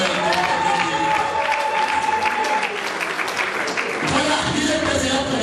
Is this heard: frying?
no